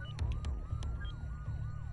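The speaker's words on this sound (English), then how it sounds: "I can't remember my code to turn off the dang alarm" Wailing security alarm siren sounding in a house in a video game, a rising-and-falling electronic wail repeating steadily and loudly throughout, with no talking.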